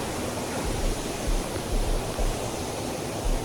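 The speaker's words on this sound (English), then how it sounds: "I see water." Steady broadband rush of flowing water, like a stream or waterfall, heard up close along a hiking trail, continuous and fairly loud with no voices over it.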